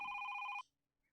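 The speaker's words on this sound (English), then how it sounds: "suddenly, the phone rang." A telephone rings late at night, a single electronic ring with rapid trilling pulses that cuts off abruptly after about half a second, leaving near silence.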